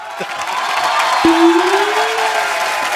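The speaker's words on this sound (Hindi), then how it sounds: "तालियां।" Studio audience applause and cheering on a Hindi comedy talk show set, a steady crowd roar of clapping sustained for the whole stretch, with a rising whistle-like tone cutting through it midway.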